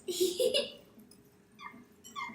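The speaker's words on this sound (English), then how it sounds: "That's a funny dog." A dog nearby gives short high yips and whimpers in a few quick bursts, faint and thin in a quiet room.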